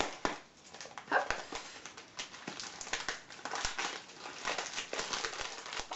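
Gift wrapping paper on a Christmas swap present being unwrapped close up, with continuous crinkling and tearing in irregular bursts and a few sharp rips.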